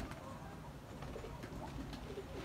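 Pigeons coo softly and faintly, low throaty burbles repeating in a steady, continuous murmur from the birds nearby.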